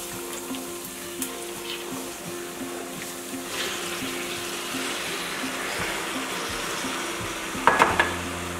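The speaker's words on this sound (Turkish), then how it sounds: "en tehlikeli iş olan su dökme işlemini gerçekleştireceğim" Water poured onto hot caramelized sugar in a pan, giving a steady sizzling and bubbling hiss that grows toward the end with a few sharper spurts near the close.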